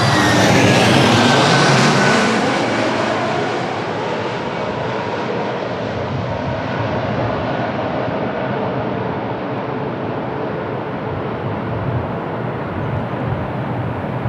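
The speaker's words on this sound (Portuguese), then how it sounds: "Top Air Portugal, on short final." A TAP Air Portugal Airbus A321neo on short final at Lisbon Airport roars loudly overhead, with a descending engine whine. The broad, steady jet rumble fades slightly as the aircraft passes.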